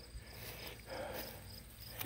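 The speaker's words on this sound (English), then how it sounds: "Crickets are happy." Faint crickets chirping in short repeated bursts near a mine, quiet and somewhat distant, with no talking.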